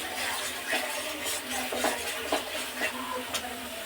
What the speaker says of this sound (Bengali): আর একটু কষাবো, তাহলে আমাদের মশলাটা ভালো মতন কষানো হয়ে যাবে।